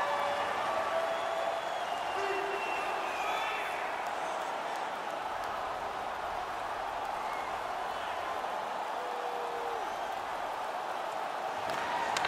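Home hockey crowd roars and cheers in an arena after a goal is waved off, a dense, steady wall of crowd noise lasting throughout at moderate level, with no talk over it.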